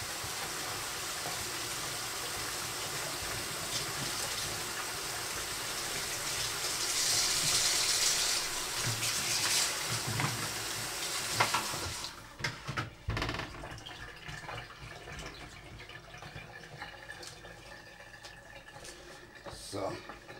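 Cold tap water gushes into a kitchen sink in a steady, fairly loud rush for several seconds. It then tapers into quieter clatter and dripping while someone talks.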